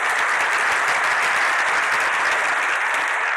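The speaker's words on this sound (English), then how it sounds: "Please join me in giving them a hand of applause as well for all they do." A dense, steady wash of audience applause for city council members at a welcome event in Minneapolis, loud and sustained across the whole stretch with no gaps.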